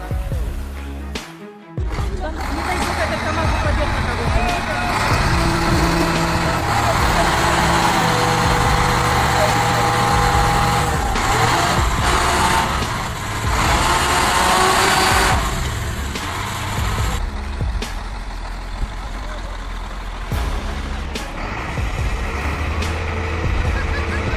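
An off-road truck's engine roars loudly and continuously as it works through mud, with heavy low rumble, surges in intensity and a brief dip near the start.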